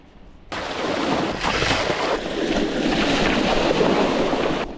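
Gravel bike splashing through a river crossing on a test ride, a sudden loud burst of churning water and rushing spray that starts abruptly and carries on steadily, close and noisy, before cutting off.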